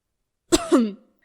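A single short, polite cough, a quick clearing of the throat heard up close in otherwise silent surroundings.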